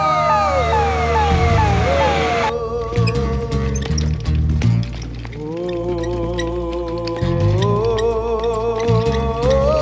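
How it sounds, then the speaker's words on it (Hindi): An ambulance siren wails in rapid rising sweeps before settling into a steady two-tone pattern, loud and continuous throughout, mixed with other siren tones and dramatic background sound. "एम्बुलेंस।"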